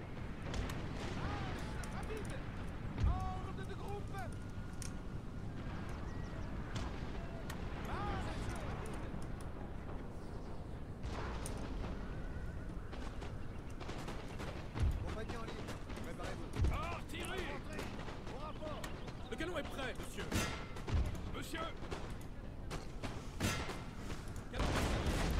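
Artillery and musket fire in Napoleon: Total War crack and thump in scattered, irregular bursts across a noisy battlefield, mostly distant with a few sharper near shots, under someone talking.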